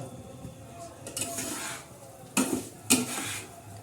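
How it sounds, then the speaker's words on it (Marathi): Semolina roasting in a pan with a spoon scraping and stirring, a soft dry rustle broken by a few sharp utensil clinks against the pan. A voice talks faintly underneath. "आता हा रवा भाजत आहे"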